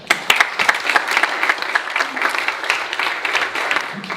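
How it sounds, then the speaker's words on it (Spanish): An audience at an EU–Peru innovation forum greets the keynote speaker with steady applause, many hands clapping in a dense, lively wash that holds for several seconds at full strength. "Recibámoslo con un fuerte aplauso."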